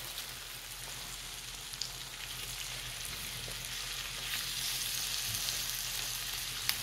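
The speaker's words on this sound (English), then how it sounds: "now I'm gonna add my shrimp" Fresh large shrimp for garlic scampi sizzle in a buttery pan with a soft, even crackle that grows slightly louder, broken by an occasional light tap.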